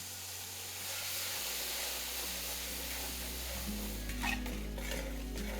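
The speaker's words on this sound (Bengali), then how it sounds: "টমেটোটা দেওয়ার পরে টমেটোটা যতক্ষণ না ভালোভাবে গলে যাচ্ছে ততক্ষণ এটাকে এইভাবেই মেশাতে থাকুন।" Tomato stirred into hot oil with turmeric and Kashmiri chilli powder for a bata fish curry, a steady sizzle and hiss under a low hum, with faint spoon scrapes toward the end.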